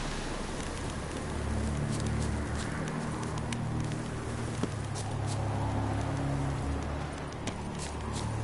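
Roach, the horse in a video game, moves along with soft, steady hoofbeats under a continuous outdoor ambience, and faint bird calls and an occasional sharper click can be heard.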